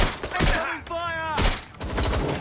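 Gunfire in a PS4 shooter video game: rapid sharp shots in short bursts, up close and mixed with shouted in-game voices.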